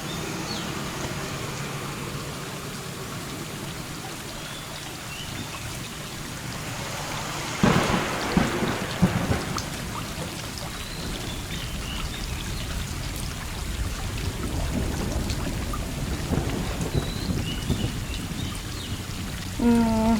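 Steady rain pours in the video game Stray, with rolling thunder swelling partway through and rumbling again later, a dense continuous wash of sound with no voices.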